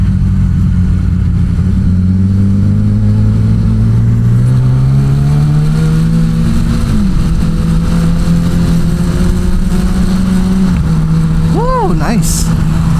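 A 2023 Kawasaki ZX-10R with a quick shifter and auto blipper accelerates hard, its loud, close engine climbing steadily in pitch through the gears and dropping briefly at a clean shift before pulling again, with wind roar throughout.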